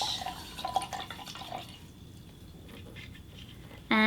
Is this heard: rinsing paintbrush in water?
yes